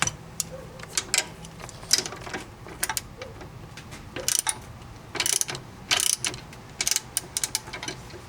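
A hand ratchet tightens the trailer hitch bolts on a 2012 Honda Foreman ATV, giving rapid bursts of close, sharp clicking in quick strokes with short pauses between them.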